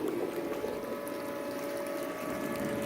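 Water runs steadily through a 75-gallon nutrient reclamation tank, a low continuous rushing and pumping wash that stays even and close throughout with no talking.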